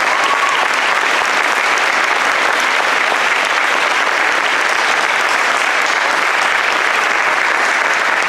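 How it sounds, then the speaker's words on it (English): An audience at a school spring band concert applauds, a dense, steady wash of clapping that stays loud and even throughout with no break. "How about a round of applause for Peyton?"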